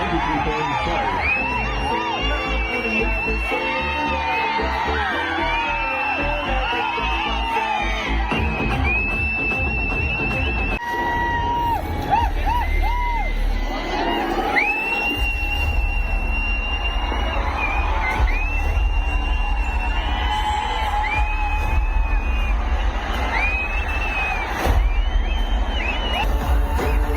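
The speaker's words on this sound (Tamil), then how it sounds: "புதுவை மக்கள் உங்கள் அனைவரின் கரகோஷத்தோடு வரவேற்பதில் ஒரு மகிழ்ச்சி கொள்கிறது" A large concert crowd in Pondicherry cheers, whoops and shouts as a composer arrives on stage, a loud, sustained roar with high yells and excited voices over amplified sound.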